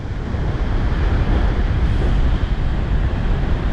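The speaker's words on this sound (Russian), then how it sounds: "Дичайший ветер." Wild storm wind pounds a Crimean sea shore with big waves, a dense, loud, rumbling roar of gusts and surf hitting the microphone without pause.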